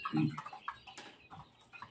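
Used gamefowl broodcock chickens cluck in a gameyard, giving a few close, short clucks and throaty calls spread unevenly over two seconds.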